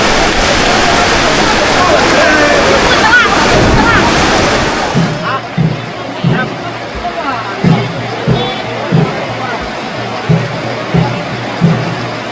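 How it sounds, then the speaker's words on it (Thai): Heavy rainstorm lashing an ordination ceremony at a Buddhist temple in Savannakhet, Laos: a loud, dense roar of rain and wind for about five seconds, then easing to softer rain with a run of regular knocking thumps. "สภาพพายุมาแล้ว"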